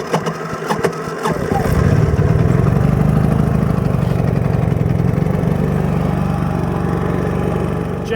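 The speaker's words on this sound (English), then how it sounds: "gotta go get the generator started" A portable generator engine catches after a brief start attempt and settles into a steady, loud mid-pitched running drone close by, continuing without pause in a workshop setting.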